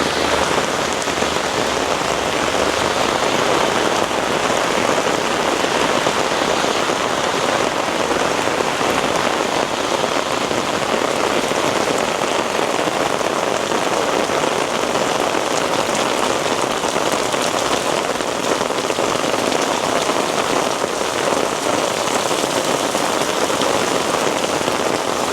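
Steady, heavy rain hammers down in downtown Toronto, a thick, close wash of drops and streaming water that stays level and uninterrupted throughout, with no one speaking.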